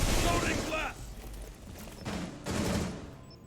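Gunfire from Rainbow Six Siege during a collegiate esports match between Marietta College and Purdue University, with a dense burst of game shots and impacts up front, then further rattling bursts under commentary voices.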